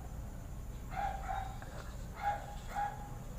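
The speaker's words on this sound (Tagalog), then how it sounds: "Hayaan na lang ang aso dyan, patahol-tahol." A dog barks in short repeated bursts, four distinct barks in two pairs, at moderate distance over a steady low background hum, with no talking.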